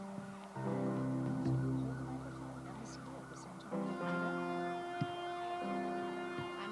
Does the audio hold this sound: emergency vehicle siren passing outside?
yes